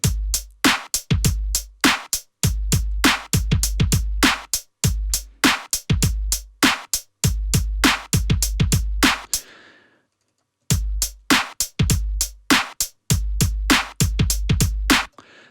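A hip hop drum groove with punchy kick drums and crisp hits in a swung NY Cut 1 feel loops loud and close, breaks off for about a second, then starts again, with no talking.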